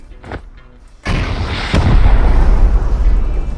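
A rocket blast tears into a base during a raid in the game Rust: a small pop, then a sudden heavy boom at about one second and a second impact that leaves a loud, rumbling roar.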